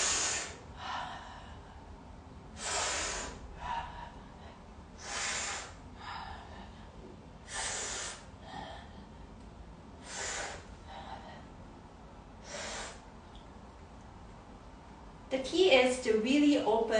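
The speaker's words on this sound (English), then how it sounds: "breathing." Deep rhythmic breaths taken during a fascial stretching exercise class, about seven long broadband inhale-exhale cycles spaced a couple of seconds apart, close and fairly soft, followed by a brief burst of louder rustling at the end.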